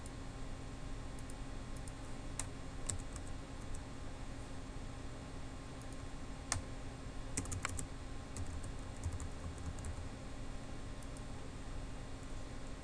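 Fingers type on a computer keyboard to enter login details, a faint, quiet run of scattered key clicks with a few sharper taps clustered in the middle, over a soft steady hiss and no voices.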